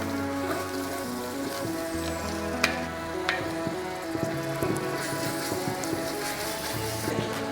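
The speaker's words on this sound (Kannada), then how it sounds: "3 to 4 ಮಿನಿಟ್ಸ್ ಚೆನ್ನಾಗಿ ಫ್ರೈ ಮಾಡ್ಕೊಳ್ಳಿ" A biryani masala with curd fries in a pan, giving a soft, even sizzle with a few sharp utensil clicks and scrapes, steady throughout and without talking.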